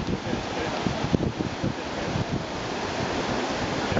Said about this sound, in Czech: Moc se fouká